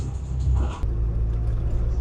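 A 1960s MGB rally car on the move, its engine giving a loud, low rumbling drone with a brief dip and shift partway through before the steady growl resumes.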